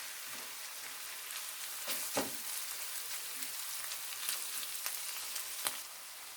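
Steady sizzling of eggplant frying in a pan with diced vegetables and garlic, with occasional scraping stirs and small pops throughout.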